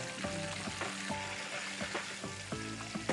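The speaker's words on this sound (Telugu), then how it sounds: "ఇది కొంచెం క్రిస్పీనెస్ రావాలండి, అవునండి, అంటే మంచిగా ఫ్రై అవ్వాలి." Food crisping as it fries in a pan, a steady sizzle with repeated clinks and scrapes of stirring, close and alone with no talk.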